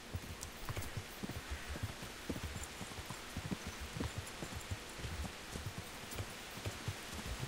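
Horse hooves clopping in Kingdom Come: Deliverance, a steady run of soft, close hoofbeats over a continuous rustling, rain-like background, with no one talking.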